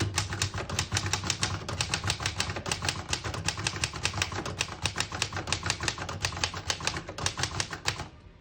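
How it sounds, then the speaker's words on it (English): Brisk typing on a 1941 Remington Envoy portable typewriter, a quick, even run of crisp key strikes clacking close up, with no voices. "I'll type a sentence on the next line."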